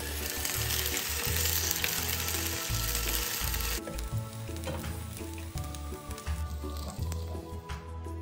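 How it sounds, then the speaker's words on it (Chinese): Radish cake pan-frying in oil sizzles loudly and steadily, a dense crackling hiss that eases slightly partway through, with no voices. "将每面都煎一煎，这样煎出来的萝卜糕表面微微焦"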